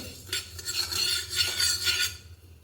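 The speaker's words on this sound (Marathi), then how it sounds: "धने देखील आपल्याला हे भाजून घ्यायचे आहेत धने कच्चे नाही घालायचे" Coriander seeds dry roasting in a pan, stirred in a few quick bursts of rattling, scraping strokes that rise and fall over about two seconds, close and moderately loud with no talk.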